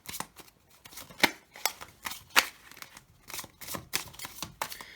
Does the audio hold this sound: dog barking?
no